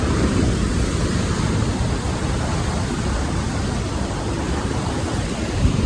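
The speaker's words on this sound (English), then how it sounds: "And look at these waves, guys. This is just absolutely crazy. The waves are huge here" Large ocean waves break steadily beside a jetty, a loud, continuous roar of surf and churning water with no voices over it.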